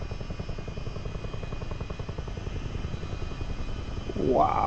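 A helicopter in flight, heard from inside with steady rhythmic rotor thumping and engine hum, a voice speaking briefly near the end.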